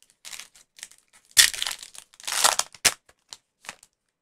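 A foil hobby pack of 2021 Topps Heritage baseball cards is crinkled and torn open, giving several bursts of crisp crackling rustle, with two louder crumpling peaks and a sharp tear near the end, close and alone.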